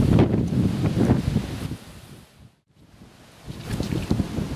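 Strong wind buffets the microphone beside a well-established fishing lake with lily beds and a central island, a loud, steady rush that dips briefly to a lull before gusting back up, with no voices.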